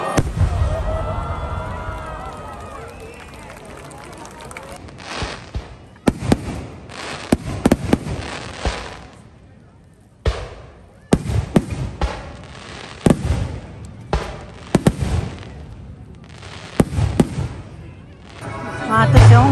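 Fireworks display at the Ome fireworks festival in Japan: a sustained crackling roar at first, then repeated loud bursts and booming pops in irregular clusters, with people talking in the crowd throughout.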